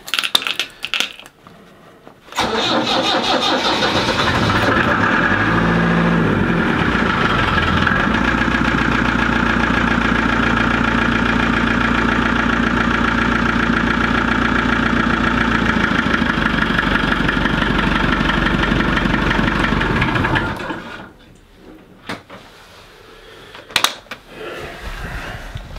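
An engine cranks and catches, then idles steadily and loudly for about fifteen seconds before shutting off, followed by a few faint clicks and knocks.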